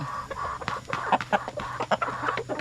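A small flock of Rhode Island chickens, seven hens and two roosters, clucks nearby in irregular overlapping bursts, moderately quiet with a low background hum and no talking.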